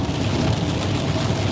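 Heavy rain from a storm in South Georgia pours down in a dense, constant hiss with a low rumbling underneath, loud and steady throughout.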